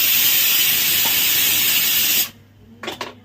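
A pressure cooker whistle lets out steam in a loud, close, continuous hiss that cuts off abruptly, followed by a brief faint rattle.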